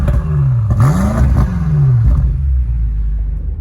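A BMW M8 Competition driving in comfort mode gives a steady, loud, low engine rumble and road drone from inside the cabin, with the engine note rising and falling as revs shift, and no talk.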